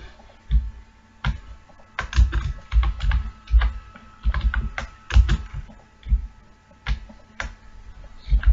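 Computer keyboard typing C code, a steady stream of irregular key clicks in quick bursts with short pauses, close and clear, no voices.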